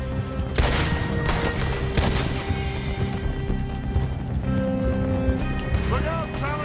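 Gunshots ring out in a video game amid a busy battle, with sharp cracks early on, horse hooves and whinnies, and voices talking throughout.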